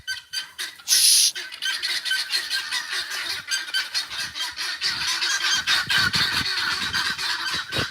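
Guinea fowl call in a harsh, repeated, honking cackle, loud and close, with a sharp squawk burst early on followed by continuous chattering calls.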